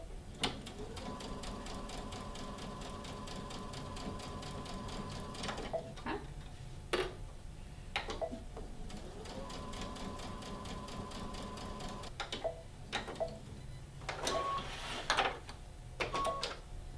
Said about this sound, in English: I have started sewing here because I accidentally closed that part